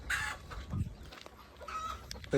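Chickens cluck and squawk in short, scattered bursts at a poultry farm, fairly close, with a busy flock murmuring in the background.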